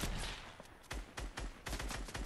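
Video game gunfire in Fortnite: several loud bursts of rapid automatic shots in quick succession, close and punchy, with brief gaps between volleys.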